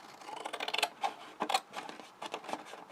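Scissors snipping through patterned paper for a small faceted handbag, a close, quiet run of short crisp cuts in an uneven rhythm, with no voices.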